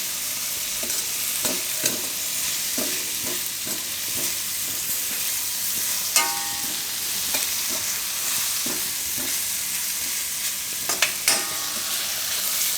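Carrot and spinach sabzi being stirred and fried in a pan, with a steady sizzle and repeated scraping stirs at an irregular rhythm, close and alone without talk.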